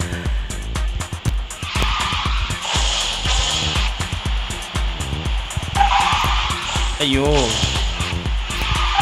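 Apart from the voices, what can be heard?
car drifting and tire squeal in QQ Speed Mobile racing video game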